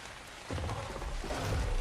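Rain falls in the video game ARK as a soft, steady patter that thickens partway through, with low rumbling swells underneath and no speech.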